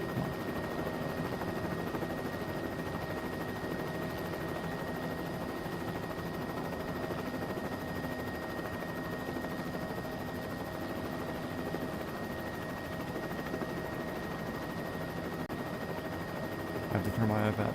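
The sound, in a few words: helicopter flying in a flight video game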